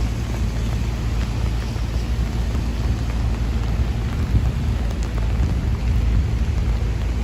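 A heavy rainstorm with thunder on Fifth Avenue in Manhattan outside the Apple Store, a loud, unbroken wash of pouring rain with a low thunder rumble beneath it and faint traffic, with no talk.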